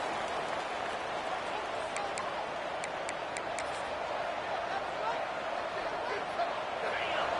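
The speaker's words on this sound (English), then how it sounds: "listen to this crowd noise. This stadium is vibrating." Roar of a football stadium crowd during a game against Kentucky, a dense, steady wash of distant cheering with a few faint sharp ticks, and talk running over it.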